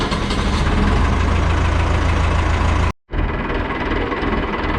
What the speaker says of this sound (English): It's tractor time.